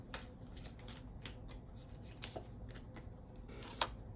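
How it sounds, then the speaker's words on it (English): Tarot cards drawn one at a time from a deck during a reading, giving soft, quiet papery flicks and slides in an irregular rhythm, with a sharper snap near the end, close and faint with no talking. "I'm gonna get a couple more of these cards."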